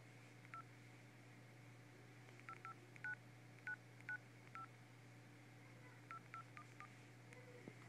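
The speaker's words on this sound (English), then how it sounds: "it's just a random number I'm dialing." Keypad tones from a phone-dialer app on an iPod touch as a number is entered, a series of short, faint beeps in uneven bursts over a steady low electrical hum, no voices.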